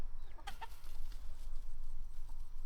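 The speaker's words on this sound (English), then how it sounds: "Roosters were fighting." Chickens and roosters squabble in a farmyard flock of about sixty birds, giving a few sharp squawks and clucks over a steady background hum, fairly close, with no talking.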